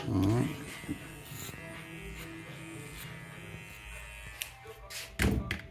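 An electric hair trimmer buzzing during a temple fade neck taper haircut, a faint, steady hum with occasional taps and a brief thud, and someone talks at the start.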